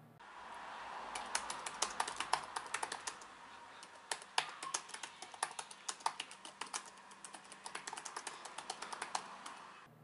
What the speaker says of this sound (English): Here's what it sounds like while typing.